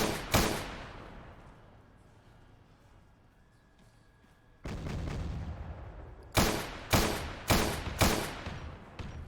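Autocannon fire in the Arma military video game: one sharp blast, a lull, then a sustained roar followed by four evenly spaced heavy shots, loud and close with a booming decay.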